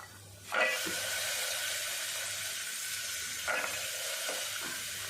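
Ginger and garlic sauté in a pan with peas and cashews for a white pulao, giving a steady close sizzle with a louder burst early on and a few scraping stirs.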